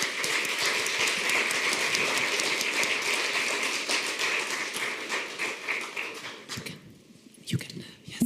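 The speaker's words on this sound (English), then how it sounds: "So please join me in applause for all four of you." An audience at a conference workshop session claps for the panel leaders, a dense crowd applause that holds steadily then thins out and fades into scattered claps and murmurs near the end.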